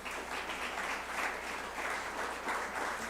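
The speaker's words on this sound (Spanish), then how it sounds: "¿Le das un fuerte aplauso a Jesús?" A church congregation gives a loud round of applause during a sermon: a thick, continuous wash of many people clapping, steady and full throughout, with no voices over it.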